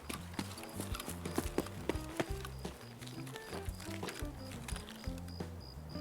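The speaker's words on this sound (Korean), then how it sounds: "오른쪽에 소리, 발소리, 점프 소리." Rapid footsteps and a jump in Escape From Tarkov, a busy run of clattering, hoof-like impacts close by, with bright metallic ticks throughout and no talk.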